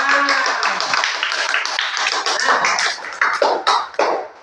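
Students clap together in a classroom, a dense, steady patter of many hands lasting several seconds, with a few louder claps near the end as the applause thins out.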